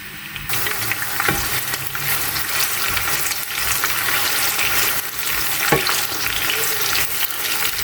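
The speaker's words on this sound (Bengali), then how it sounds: "পেঁয়াজটা দিয়ে আমি 2-3 মিনিটের মতো ভেজে নেব।" Chopped medium onion frying in hot oil for a chicken momotaz dish, a continuous bright crackling sizzle with occasional louder spatters and a couple of utensil knocks.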